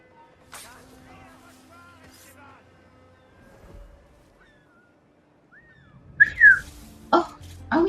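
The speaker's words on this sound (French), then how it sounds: "On va siffler pour attirer les gens." A few short whistles to attract guards in the video game Assassin's Creed Black Flag, followed by louder bursts of rustling and movement, with a low hum running underneath.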